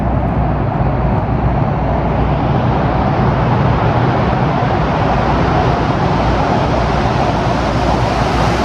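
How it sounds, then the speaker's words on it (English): A car approaching along a road in Norway, a steady broadband roar of tyres and engine that holds loud and constant throughout with no voices. "you can hear the car coming for a while"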